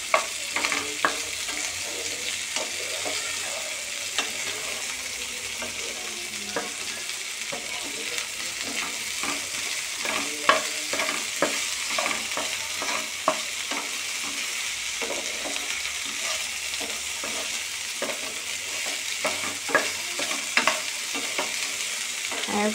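Okra frying on high flame in a pan, a continuous hiss of frying with repeated scraping stirs and clinks of the spatula, steady and close throughout.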